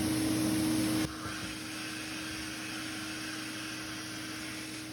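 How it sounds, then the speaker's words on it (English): Vacuum table of a screen printing press switched on, a steady broadband whoosh with a low hum that drops in level after a second and then holds constant. "then you get the paper in there and flip on the vacuum table"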